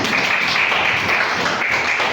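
A classroom of students claps together in a brief, steady burst of applause that fills the room evenly from start to finish.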